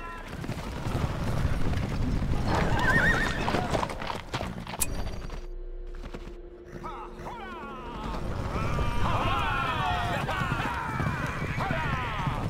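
Horses' hooves clatter and pound amid battle commotion in a video game, with shouted commands to lancers and archers, a brief whinny over a dense, busy mix.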